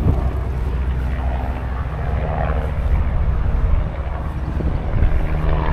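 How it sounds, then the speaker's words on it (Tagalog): A helicopter passes overhead during an evening walk in Frankton, Queenstown, a dull, steady rotor rumble mixed with wind buffeting the microphone, with faint voices underneath. "Helicopter oh."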